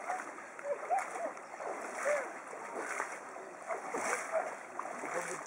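Water splashing as people wade across the Multa river, a steady rush of churning water with intermittent splashes close by, and faint voices and bird calls in the background.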